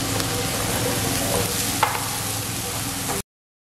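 Onions fry and get stirred in a pan while pork ribs are prepared in an ordinary kitchen, giving a steady close sizzle with a few sharp scraping clinks before stopping abruptly.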